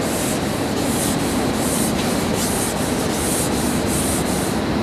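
Fine sanding across a flat boat surface by hand, a steady close-up abrasive rubbing with a rhythmic back-and-forth pulse repeating roughly twice per second, continuous and fairly loud with no talking.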